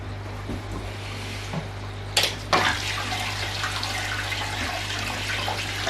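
Water pours steadily into a 4ft open-top river fish tank, a continuous splashing rush with a couple of sharper bursts partway through, close and fairly loud with no talking.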